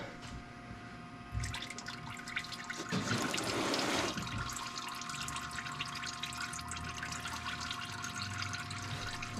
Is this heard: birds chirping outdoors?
no